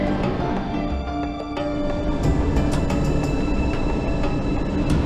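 Steady rumble and rattle of an MRT-3 train running along EDSA in Manila, a dense continuous mechanical roar with faint squealing tones, loud and close throughout with no talking.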